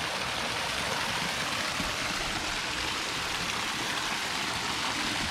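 A backyard waterfall system feeding a turtle pond, giving a constant, dense rush of splashing water, close and unbroken with no voices.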